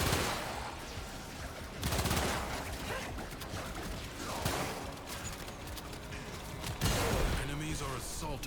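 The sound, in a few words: gunfire headshots from a video game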